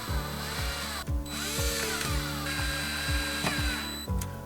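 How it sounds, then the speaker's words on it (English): A power drill drives bolts into an EV charger wall plate in a steady, close whir, with a rhythmic clicking pulse and a brief dip around the middle. "put in your bolts and screw them in"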